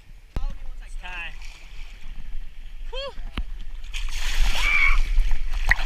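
Kayaks paddle through clear water over a sandy bottom, with broadband splashing and sloshing building toward the end, mixed with scattered voices and a few sharp chirping calls.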